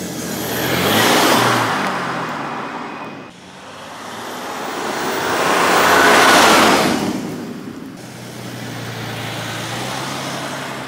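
An Audi A5 3.0 V6 car engine revs and accelerates in two strong surges through city streets in Limoges, roaring up and fading, with steady road noise between and after.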